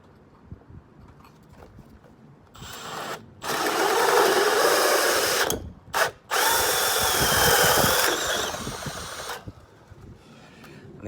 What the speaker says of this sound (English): Just going to drill this out